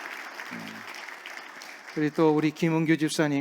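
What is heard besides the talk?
church congregation applauding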